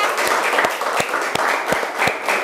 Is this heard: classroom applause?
yes